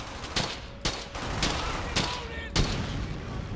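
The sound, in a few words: machine gun fire in the video game Brothers in Arms: Hell's Highway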